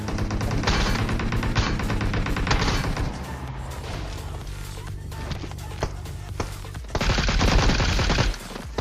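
Rapid bursts of MK14 rifle fire in a PUBG match, loud, dense volleys in the first few seconds and again near the end, with a quieter stretch of lower rumbling between.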